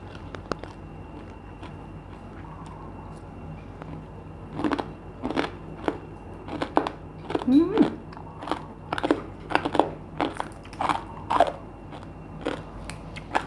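Crispy fried pork rinds being bitten and chewed up close, a run of loud, irregular crunches and crackles starting a few seconds in and continuing steadily to the end over a quiet room background.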